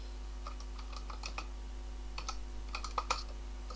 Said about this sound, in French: On tape Nitro 4D.